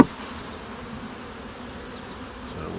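Honey bees buzz steadily inside a hive housing a cell-builder colony, a dense continuous drone filling the space close up with no voices.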